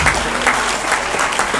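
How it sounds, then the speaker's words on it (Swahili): A church congregation applauds, a dense burst of clapping from many hands heard up close. "Wapige makofi."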